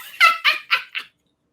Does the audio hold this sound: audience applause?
no